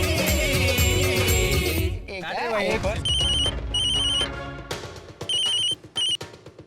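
A telephone ringing in a police station setting, several short bursts of bright trilling rings repeating in the second half, heard over music and people talking.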